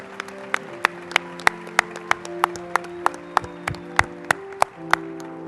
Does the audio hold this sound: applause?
yes